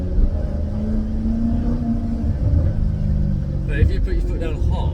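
A Maserati GranTurismo S fitted with a Larini exhaust gives a deep, throaty engine rumble as it picks up speed under light throttle, heard from inside the car, steady and moderately loud.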